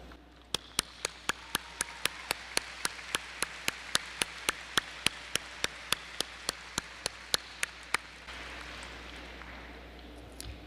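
Audience applause for ninth grade scholars at a Dallas ISD school ceremony, heard as a steady, evenly spaced run of crisp claps that ends abruptly, followed by quiet room tone.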